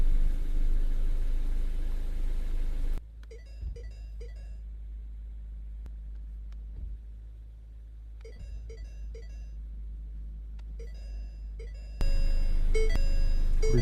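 Ford Fusion engine idling as the automatic transmission is shifted through the gears, a steady low rumble that drops quieter in the middle, with faint electronic chimes and clicks over it before the idle swells again.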